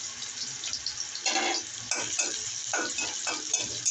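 Bitter gourd frying with onion in a pan: a close, steady sizzle broken by bursts of stirring and scraping, with no talk.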